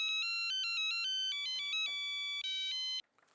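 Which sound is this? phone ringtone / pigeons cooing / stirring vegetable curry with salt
phone ringtone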